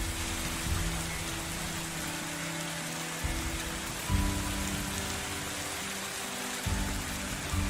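Light rain patters steadily in a video game weather system, a soft continuous hiss with low rumbling swells at a few points and no voices.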